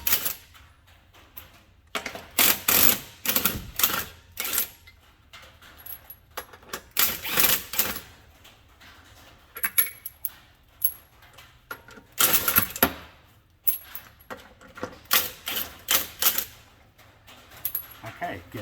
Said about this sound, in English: just use a normal impact wrench, and we can just take the rest of them off